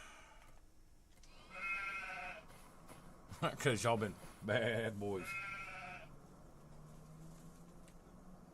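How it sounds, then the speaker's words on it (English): Sheep and goats on a farm in the Farming Simulator 25 video game bleat in several wavering cries bunched in the middle, moderately close, while someone talks over the game. "We got sheep and goats."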